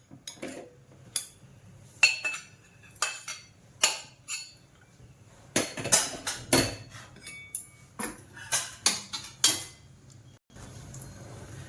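Roasted finger millet (nachni) being scraped out of a pan, a run of sharp metallic clinks and scrapes of a spoon against the pan, irregular and close, with no talk.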